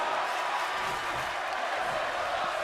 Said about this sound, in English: And the crowd chanting, this is awesome.